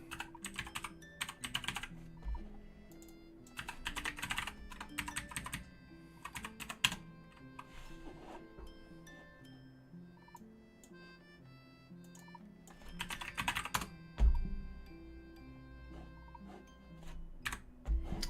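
Someone types on a computer keyboard in quiet bursts of rapid clicking, broken by long pauses and a few heavier key strikes, over a faint steady tonal hum and no speech.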